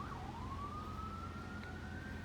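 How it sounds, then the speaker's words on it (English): A distant siren wails with a slowly rising tone over a low background rumble of traffic, faint and far away. "Now you hear the sirens."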